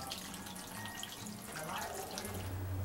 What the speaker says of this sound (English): Right here is a little waterfall that my grandchildren like to play with